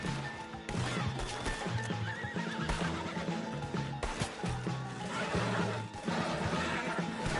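A horse in Red Dead Redemption 2 gives loud whinnies over clip-clopping hooves, joined by a steady bed of game music and ambience, with no voices.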